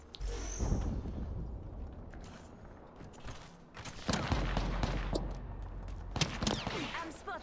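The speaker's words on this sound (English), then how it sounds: "I'm spotted. Taking fire." Bursts of gunfire crackle through an Apex Legends match, with scattered sharp shots and rapid volleys, the loudest clusters arriving later amid mechanical clanks and background game noise.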